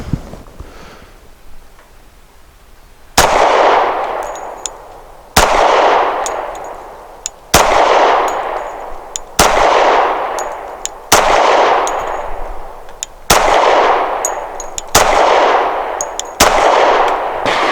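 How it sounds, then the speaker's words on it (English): A Rock Island Ultra CCO .45 pistol fires eight loud, evenly spaced shots at a target, each a sharp crack followed by a long ringing echo, after a quiet start with no talking. "this will be a little bit slower shooting just because I'm going to shoot at an actual target this time"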